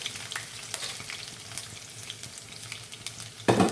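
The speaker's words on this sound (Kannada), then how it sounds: "ಸಣ್ಣಗೆ ಹೆಚ್ಚಿದ ಬೆಳ್ಳುಳ್ಳಿ ಹಾಕ್ಕೊಳ್ಳೋದು" Finely chopped garlic frying in hot oil in a pan for a Kerala-style ginger curry, giving a steady close sizzle with light stirring scrapes and a louder crackle burst near the end.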